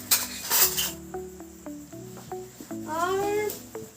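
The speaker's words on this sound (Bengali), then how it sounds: "পাঁচটা নেওয়া হয়েছে কাঁটা চামচ আর পাঁচটা নেওয়া হয়েছে তো বেশ শক্ত পক্ত চামচ।" Metal forks and sturdy spoons clinking together, a burst of jangling at first, then a series of distinct bright clinks spaced about a quarter second apart, close and clear, with a faint voice in the background.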